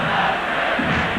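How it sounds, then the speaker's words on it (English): A baseball stadium crowd roars in a dense, sustained wave of cheering during an Athletics home game, loud and continuous across the whole moment. "And the crowd certainly has suddenly gotten back into it"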